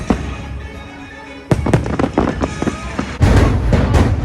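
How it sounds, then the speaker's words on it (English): Fireworks at Magic Kingdom burst in loud, sharp volleys, with crackling clusters of reports that grow denser and stronger toward the end, heard nearby outdoors. "Fireworks are still going off."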